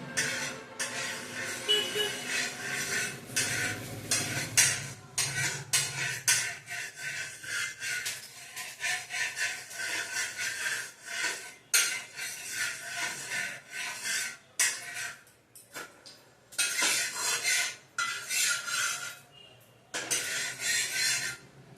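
Oil being spread across a hot tawa for paneer tikka, heard as repeated close scraping and rubbing strokes of a utensil on the metal surface, in uneven bursts with brief pauses.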